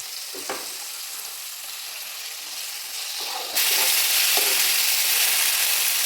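Chopped tomato and onion sautéing in a hot pan for a fish curry, a steady loud sizzle and stir that jumps noticeably louder midway, with a few soft scrapes of stirring.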